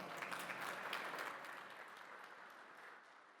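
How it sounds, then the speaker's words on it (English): Applause from an audience at a topping-out ceremony for a data center, as the Minister for Climate and Energy is welcomed to the stage; a soft, distant wash of clapping that gradually fades away. "Let's welcome him with an applause."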